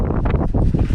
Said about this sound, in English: I'm sorry for the wind, it's really windy today.